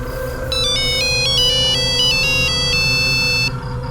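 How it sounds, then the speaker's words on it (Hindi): A mobile phone plays a melodic electronic ringtone for an incoming call, a bright chiming tune of rising and falling notes that repeats for about three seconds over a low background hum. "मैडम जी का फोन"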